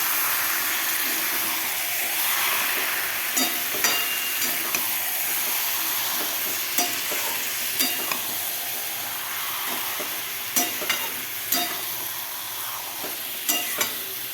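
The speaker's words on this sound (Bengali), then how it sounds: "মাংসটা এবার কষবো" Mutton sautéing in spice paste in a pan gives a steady, close sizzle and hiss, with sharp scrapes of a spoon against the pan at irregular intervals throughout.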